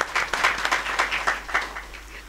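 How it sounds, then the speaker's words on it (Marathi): An audience at a Marathi Bhavarth Ramayana katha in Ghagarwada claps together in a steady, rhythmic beat, fairly close, with some voices mixed in. "बाप्पा आले म्हणून एकदा टाळ्या वाजवा बाप्पाच्या नावावर"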